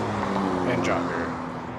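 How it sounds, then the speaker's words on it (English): A Chevrolet Camaro rolls past at a cars and coffee meet in Anaheim, its engine note swelling briefly and then fading, with crowd chatter and other idling cars steady in the background. "Got a nice little Camaro rolling through. Sounded pretty good."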